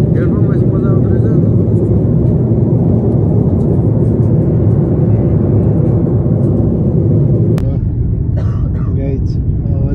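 Steady loud engine roar inside an airplane cabin during a flight, a constant broadband rumble that holds throughout, with brief faint clicks and voices near the end.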